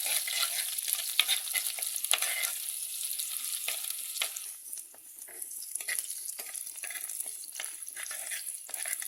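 Garlic and curry leaves sauté in hot oil in a pan for a sardine chilli curry, giving a steady crackling sizzle with brief stirring scrapes, close by and fairly quiet, with no one talking.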